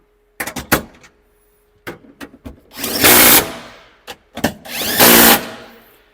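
Power tool, likely an impact driver or drill, tightening bolts while a false floor is fitted in a Toyota Prado 250, heard as several short bursts followed by two longer loud whirring runs, close by, with no talking.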